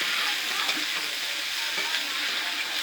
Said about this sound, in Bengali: এবার একটু ভালো করে নাড়িয়ে নেব।